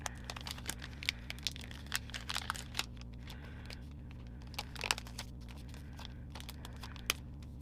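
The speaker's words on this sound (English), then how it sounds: "If we can get it out of the packaging, which appears to be some sort of challenge." Plastic packaging of a sticker kit crinkling and tearing as it is pried open, a series of faint, close, irregular crackles and snaps over a low background hum.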